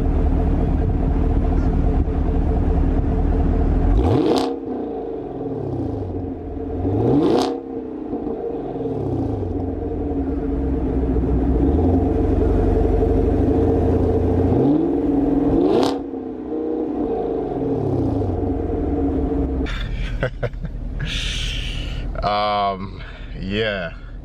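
A 2017 Chevy Camaro SS V8 rumbles at idle, rising in three loud revving bursts with falling decays between, close by, while someone talks over it throughout.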